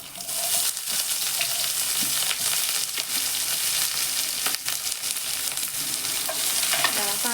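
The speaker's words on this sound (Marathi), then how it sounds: "कांदा आपल्याला चांगला परतून घ्यायचा आहे." Onion sautés in hot oil with mustard seeds, cumin and curry leaves in a pan for roasted eggplant mash, giving a continuous loud sizzle broken by frequent scraping stirs and clinks of a spoon.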